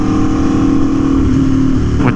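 Aprilia Tuono V4 1100 Factory with an SC Project CR-T exhaust revs loud and close, a steady deep engine drone that swells and rises in pitch near the end, with wind noise on a cool autumn ride.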